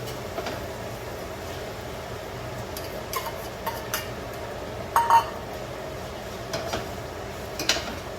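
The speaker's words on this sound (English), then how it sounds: "And I'm stirring it right now" Codfish being stirred into sauteed seasoning in a pot over a low flame, heard as faint, scattered scrapes and clinks of a utensil against the pot over a steady background hum.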